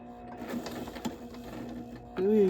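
A sewing machine back stitches with black thread during quilt appliqué work, running in a soft, steady hum with small mechanical ticks before a louder, faster whir at the end; a voice talks quietly over it.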